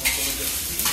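Chicken chaap frying in a pan in a kitchen while being stirred, a steady hiss of sizzling with scraping stir sounds, loud and close, no voices.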